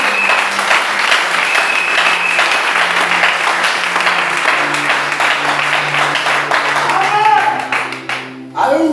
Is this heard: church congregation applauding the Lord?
yes